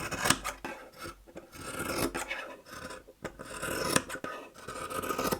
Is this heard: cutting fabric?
yes